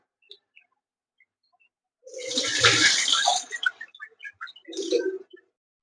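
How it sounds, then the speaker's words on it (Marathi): Rice rinsed under running water while cooking biryani: a short splashing, pouring burst with dish clatter, then a few scattered drips and a final small splash, close and fairly quiet. "पुन्हा एकदा हे धुवून घेतोय"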